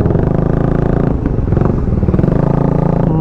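A Honda CB motorcycle with an inline-four engine passing close by on an expressway, giving a loud, smooth, steady high-pitched engine drone.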